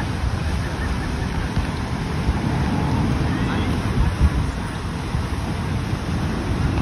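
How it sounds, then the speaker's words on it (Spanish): Ocean waves at Holbox, Mexico, a steady wash of surf mixed with wind rumble that stays fairly loud and continuous throughout, with no clear voices over it. "Y las olas."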